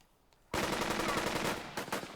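Machine gun fire in the Burden of Command video game, one loud sustained automatic burst that breaks off briefly and then gives a few final shots, after a quiet lead-in.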